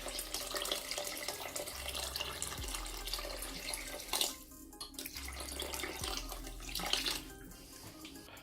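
Water runs from a tap into a rice cooker holding a kilo of brown rice, a steady splashing pour with a couple of brief breaks, fairly quiet and without voices.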